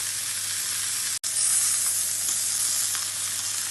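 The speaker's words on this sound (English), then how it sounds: "I'm going to turn these steaks again to give them a little bit more of a sear on the other side." John Stone beef steaks, a côte de boeuf and sirloins, searing in a hot pan, with a loud steady sizzle that drops out for an instant and then carries on.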